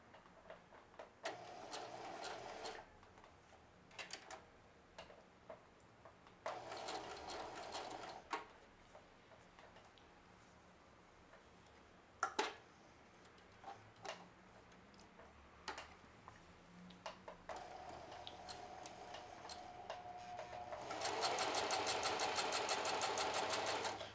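A sewing machine stitching a jeans pocket runs in several short bursts of rapid, even stitching, with clicks and pauses between them, ending in a longer, louder run.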